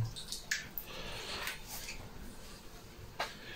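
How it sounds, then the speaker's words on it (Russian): Water being stirred by hand in a mash tun before malt goes in, soft sloshing and swirling with a few sharp splashy drips and clicks, close and fairly quiet. "берем, размешиваем воду, делаем небольшой водоворотик"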